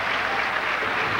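A bowling crowd at the US Open applauds a strike with a dense, sustained wash of clapping from many hands, steady throughout.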